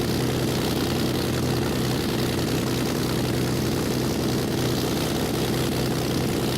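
A Spitfire propeller warbird taking off in a flight simulator, its engine a steady, loud, droning roar with no pauses or talk.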